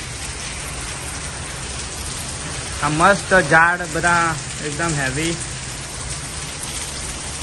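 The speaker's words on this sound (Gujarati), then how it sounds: "આ મસ્ત વરસાદ આવી ગયો અત્યારે" Dense, steady summer rain in America roars across surfaces, continuous and loud, while someone speaks briefly partway through.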